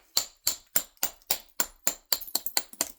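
Flintknapping, a hammerstone striking the edge of a stone to trim it, about a dozen sharp close taps in a steady rhythm that quickens near the end.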